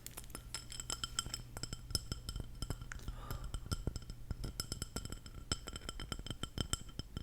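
A glossy ceramic bowl with swirly painted patterns is handled up close, giving a steady stream of light clinks and taps that are soft but crisp, with no talking.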